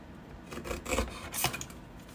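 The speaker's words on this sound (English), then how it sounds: "I'm going to trim that piece off" A small paper trimmer cuts a piece off a layer of card, giving two or three short, close, dry scraping strokes over a quiet room.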